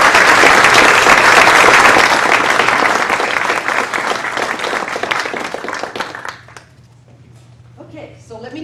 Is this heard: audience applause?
yes